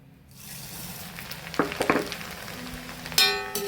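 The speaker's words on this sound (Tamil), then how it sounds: "அதையும் பொரிச்சு எடுத்துக்கோம்" White flattened rice (aval) hits hot oil and fries with a rising crackling sizzle, a few sharp bursts of bubbling, then a fresh loud surge of frying near the end.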